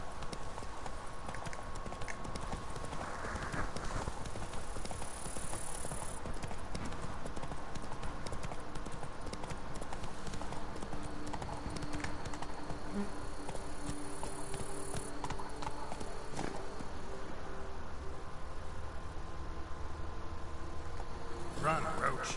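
Roach the horse gallops in The Witcher 3, a steady clip-clop of hooves running over a constant game ambience of insects and crickets, with speech-like sounds in the mix.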